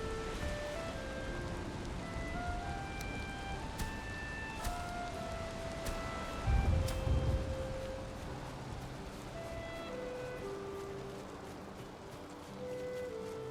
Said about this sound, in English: Finally, the rain came out.